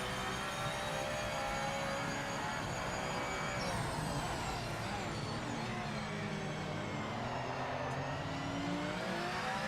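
Racing car engine in Project Motor Racing, a loud continuous drone shifting pitch through gear changes, with other cars' engines layered in the mix.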